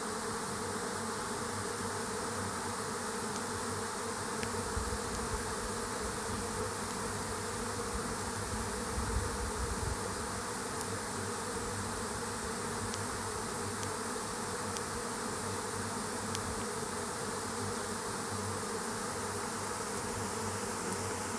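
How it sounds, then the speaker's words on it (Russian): A large swarm of honey bees buzzing, a dense, constant droning hum with a mechanical quality that continues evenly and loudly without a break. "такое гудение получается, как будто бы механизм какой-то гудит"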